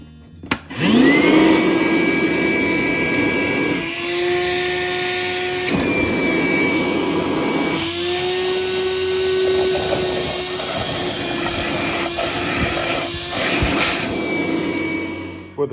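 A used Dewalt cordless 2-gallon wet-dry vacuum runs steadily and loudly in a kitchen, its whining motor tone shifting slightly in pitch as it works, alone with no talk.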